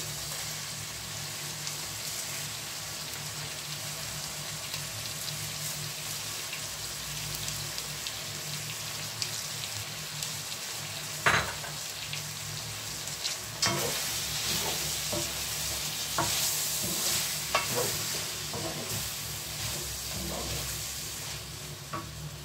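Colored bell peppers hit a pan of chicken livers and gizzards with garlic, giving a steady sizzle and frying hiss, plus a few stirring scrapes and clatters in the second half. No one speaks.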